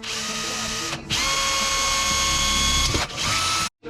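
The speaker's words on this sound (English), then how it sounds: "I'm going to drill a hole in here" A power drill whines steadily at high pitch, briefly stopping and restarting, with a grinding, ratcheting edge as it bores a hole for a rear fender and tail light on a 2008 Suzuki DR650 motorcycle.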